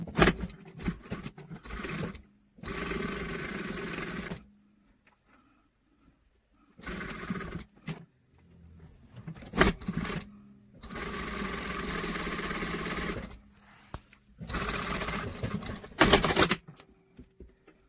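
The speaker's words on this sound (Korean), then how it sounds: "여기 꺾은 부분에 주머니 위에 부분에 미싱으로 두줄 저금질 해주세요." A sewing machine stitches two lines along the folded top of a pocket on straight-leg training trousers. It runs in several rapid whirring bursts of a few seconds each, separated by quiet pauses, with no talking.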